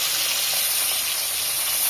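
Oily fish frying crisp in hot oil in a home kitchen, a loud, steady, bright sizzle and hiss that holds constant throughout with no voices.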